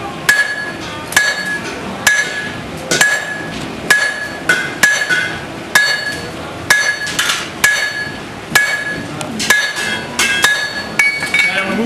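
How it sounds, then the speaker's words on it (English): A hammer strikes a quenched steel knife blade on an anvil, edges being worked straight: sharp ringing metallic blows land at an uneven pace of about one per second, close and loud, with no voices. "Hammering the edges gets the blade straight"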